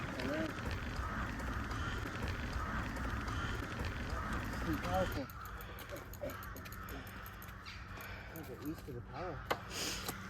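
Crows cawing repeatedly in the distance over a rushing wind-like background, with a person talking over parts of it, heard while riding a Raleigh Stowaway e-bike.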